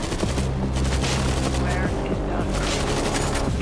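Automated turret in the zombie shooter World War Z fires sustained rapid bursts of gunfire, dense and loud throughout, with booms and chaotic game action layered beneath.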